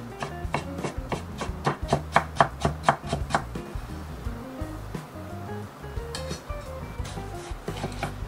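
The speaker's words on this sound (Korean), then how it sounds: "노화 방지 및 면역력이 좋은 당근을 썰어볼 건데요" A knife slicing carrots into thin strips on a cutting board, with a rapid, steady run of crisp taps that later thin into softer, irregular cuts over background music.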